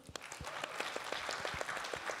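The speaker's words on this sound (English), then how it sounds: "Round of applause for Iris" An audience at a literary fiction talk applauds, a brief stretch of scattered, fairly quiet clapping with distinct individual hand claps.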